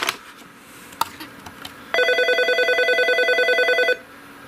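A Norstar business phone system rings with an incoming call on an external line: a loud electronic warble of rapid pulsing tones lasting about two seconds, preceded by a few faint clicks.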